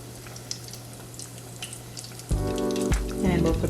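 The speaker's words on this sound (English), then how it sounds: "And these gonna fry up in about 3 minutes or so." Potato slices frying in a pan give a soft, steady sizzle, which jumps louder as another piece is laid into the hot oil, with crackling and popping close by.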